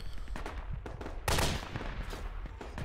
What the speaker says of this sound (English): Got mortars coming in on Coronation Point, guys